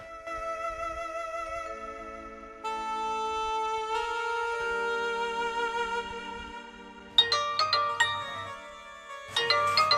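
A melodic electronic ringtone plays a repeating chime-like tune, fairly quiet, with a brief louder burst of tones near the end.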